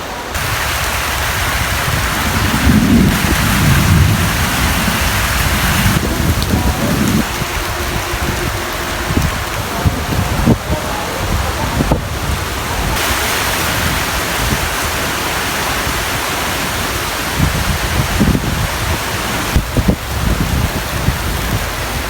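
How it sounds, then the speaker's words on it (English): Heavy rain pouring steadily in the Philippines, the first rainfall after four months, a dense continuous hiss with a few brief knocks, close and loud throughout. "Ooh, it's raining heavy."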